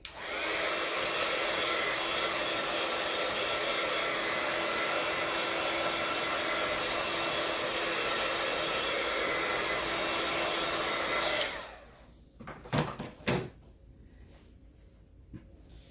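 A hair dryer blows steadily and loudly to dry paint on a crafting card, then cuts off abruptly, followed by a few faint clicks and knocks in a quiet room.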